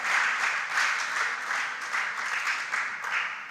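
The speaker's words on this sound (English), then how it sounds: "let's give the contestants on the stage a round of applause" A school quiz-competition audience applauds contestants on stage, steady moderately loud clapping from many hands, continuous throughout with no voices on top.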